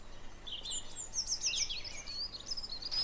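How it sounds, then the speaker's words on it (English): Small birds chirp and trill outdoors in the calm after a winter storm, a run of quick, thin, high notes that rise and fall over faint background hiss, moderately close and with no talking. "you can hear the birds singing behind me"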